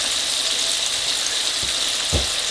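Spinach sizzles steadily in a hot pan with mushroom pasta, a constant bright frying hiss with a couple of soft low thumps near the end as the greens settle in.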